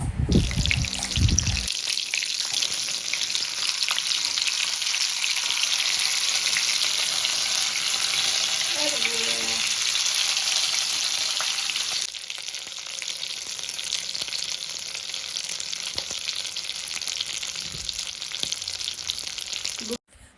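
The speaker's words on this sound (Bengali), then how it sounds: "দুই সাইড ভালো করে ভেজে নেব" Food frying in a pan on low heat, a steady broad hiss of sizzling oil that holds for about twenty seconds with a brief knock at the start and a slight drop partway through, close and even.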